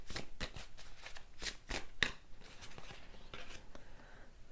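Tarot cards are shuffled close up in a quiet room, a soft run of crisp riffling flicks and papery slides, fairly faint and continuous with no voice.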